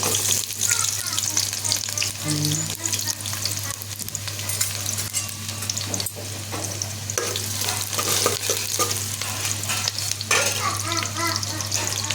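Onions sizzle and crackle steadily in hot oil on a stove, with occasional stirring, loud and close throughout with no talking.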